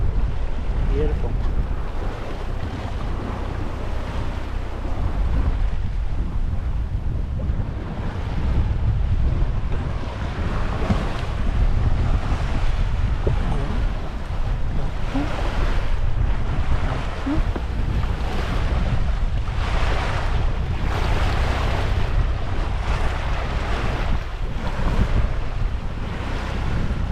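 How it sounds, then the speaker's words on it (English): A small sailboat on a solo weekend passage pushes through a light ocean swell in fluky wind. Steady rushing water and surf mix with strong wind buffeting on the microphone throughout. "We're powering through that little bit of a swell."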